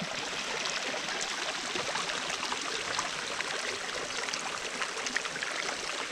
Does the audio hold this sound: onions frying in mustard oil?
no